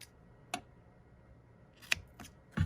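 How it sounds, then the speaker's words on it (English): Scissors cutting paper during card stamping with Stampin' Up! supplies, a few sharp, isolated snips and clicks spaced apart against a quiet background. "Oh, I used the wrong scissors."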